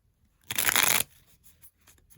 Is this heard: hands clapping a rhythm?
no